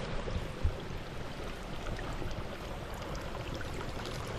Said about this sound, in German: Hört euch das Wasser an.